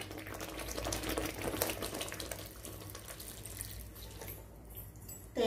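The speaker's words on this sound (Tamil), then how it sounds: "இப்போ நாம தேங்காய் பால் வந்து சேர்த்துக்கலாம்." Coconut milk is poured into a simmering Tamil-style fish gravy. A soft, continuous liquid splash and bubbling runs close by and fades toward the end, with no speech.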